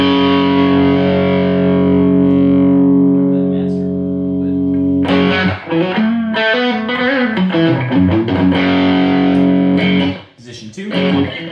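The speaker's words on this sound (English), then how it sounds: "let's do the Bad Monkey overdrive a little bit and turn my level down." A sustained electric guitar chord rings out through a Bad Monkey overdrive pedal into a Blackstar HT Club 40 MKII amp, then gritty overdriven notes and runs follow, loud and close with a slight crunch.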